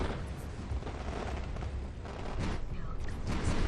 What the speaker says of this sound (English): Bunch of those guns still returning fire